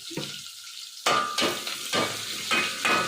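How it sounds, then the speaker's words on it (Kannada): Garlic, curry leaves and onion frying in hot oil for a Malnad-style radish sambar, a steady close sizzle broken by repeated bursts as the pieces are stirred and scraped in the pan, with no talking. "ಇದು ಚೆನ್ನಾಗಿ ಗೋಲ್ಡನ್ ಫ್ರೈ ಆಗಬೇಕು"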